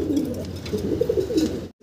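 A pair of Townshape fancy pigeons coo softly in a steady, low, rolling murmur at close range for a couple of seconds, ending in a brief silence.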